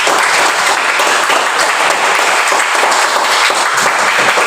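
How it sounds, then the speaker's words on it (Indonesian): A school assembly audience claps in sustained, loud, dense applause that carries evenly through the whole stretch. "Ya, tepuk tangan untuk kita semua dulu."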